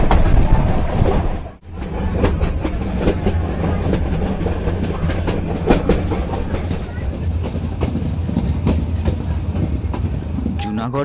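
Meter-gauge heritage train running between Junagadh and Bilkha, heard from inside a wooden-seat carriage: a steady low rumble with rattling and clicking all through, a short dip near the start, and occasional faint squeals.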